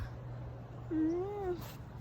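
A single cat meows once, a rising then falling call of under a second, close and fairly clear over a steady low hum, while a meal of steamed fish is eaten outdoors behind a house.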